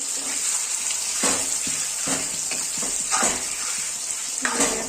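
Local chicken meat fries in a pan with a continuous close sizzle and crackle, broken by brief scraping bursts of stirring.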